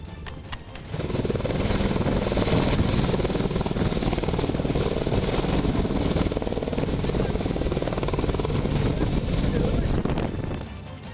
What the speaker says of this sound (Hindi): ये हेलीकॉप्टर उड़ान भर रहे हैं।